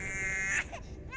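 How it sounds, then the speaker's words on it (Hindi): A baby cries in a scene from the Hindi-dubbed film Pushpa: The Rise, a loud, close wail that breaks off abruptly into a softer whimpering sob. "लेकिन बच्चे के रोने की आवाज तो आ रही थी ना।"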